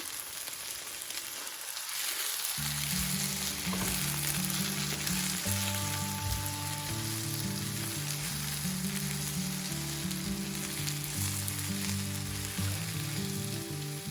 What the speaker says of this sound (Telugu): వంకాయ ముక్కలు ఇలా వేగాక గ్రైండ్ చేసుకున్న మసాలా పేస్ట్ వేసి పచ్చివాసన పోయే వరకు వేయించుకోవాలి